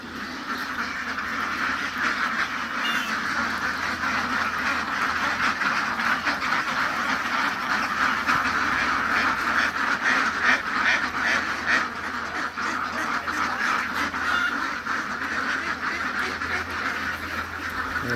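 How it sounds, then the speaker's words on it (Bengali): Domestic ducks quack densely and continuously at a busy market, a loud crowded chorus of overlapping calls with no clear speech. "দেশি হাঁস"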